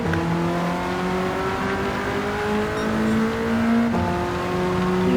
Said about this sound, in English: Even with the traction control on at the first setting, we do manage to spin some wheels.